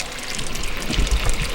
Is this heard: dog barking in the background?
no